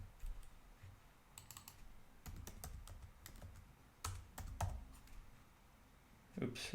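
Computer keyboard typing in bursts of clicks at a desk, fairly faint against a low background hum, with pauses between runs of keys.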